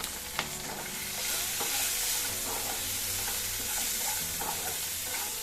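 Curry leaves and green chillies fry in oil in a pan, a steady close sizzle with occasional crackles and the scrape of stirring throughout, no voices.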